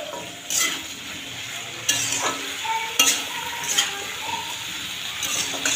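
Vegetables for pui shak chorchori frying in fish oil in a pan make a soft continuous sizzle, broken by a few sharp clinks and scrapes of a spatula stirring against the metal.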